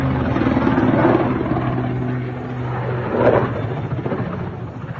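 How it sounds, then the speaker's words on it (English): A propeller-driven plane passes overhead, a steady low drone with engine harmonics that holds throughout, swelling slightly near the start and again later as it crosses. "it looks like this is actually a prop plane"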